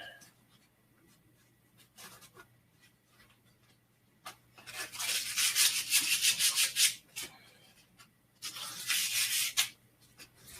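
Sandpaper rubs steadily against a wooden wand in a three-step sanding process, coming in close, loud bursts of brisk back-and-forth strokes separated by quieter pauses.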